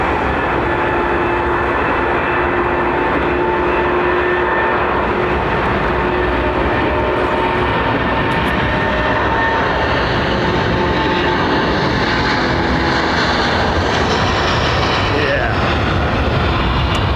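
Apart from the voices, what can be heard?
aircraft at London Heathrow Airport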